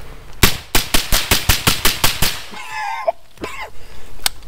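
A rifle fitted with a gas-reducing device fires a rapid, evenly spaced string of about ten sharp, loud shots, followed by scattered rustling and one more crack near the end.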